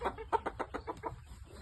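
A Shamo game rooster clucking, a quick series of about eight short rhythmic clucks, close but fairly soft, with no talk.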